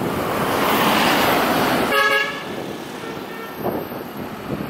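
A bus horn honks once in a short, loud blast amid road traffic noise, followed by a steady engine rumble.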